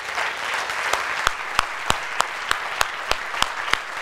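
A church congregation applauds after a call about salvation. Many hands clap in a dense wash, and one near clapper cuts through with sharp, evenly spaced claps at a steady rhythm.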